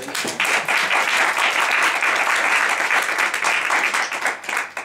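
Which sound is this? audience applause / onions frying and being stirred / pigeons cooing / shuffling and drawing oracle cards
audience applause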